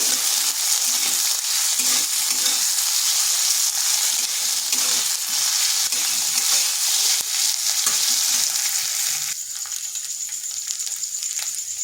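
Ginger and green chili paste frying and being stirred in a pan, a loud, dense, close sizzle with constant stirring scrapes that softens slightly near the end.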